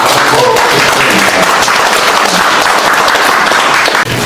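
Loud, dense applause from an audience after a pansori performance at a civic movement's founding event, continuous close clapping for about four seconds before dropping off abruptly.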